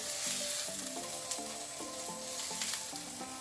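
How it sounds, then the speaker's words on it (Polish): Steady, loud sizzling of Polish minced-meat cutlets frying in a pan, continuous crackle throughout with a faint tonal hum underneath. "I smażymy kolejne 5 minut."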